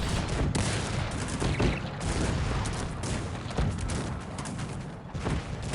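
Multi-barrel cannons fire in a Cossacks 3 multiplayer battle, a dense, loud rolling barrage of overlapping booming shots with scattered sharper cracks, continuous throughout without speech.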